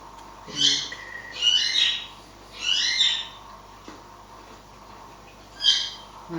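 Pet birds squawk in bursts from another room, five or six loud harsh calls spaced a second or so apart over a quiet indoor background, with no talking.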